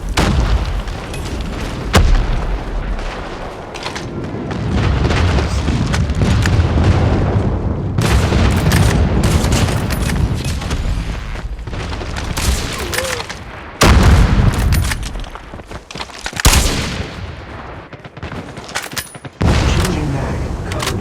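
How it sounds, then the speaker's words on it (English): Airstrike explosions in a multiplayer shooter video game, heavy booms and bursts of gunfire crowding a continuous loud battle din for about twenty seconds, with brief drops between blasts and radio-style voice callouts mixed in. "Friendly airstrike incoming."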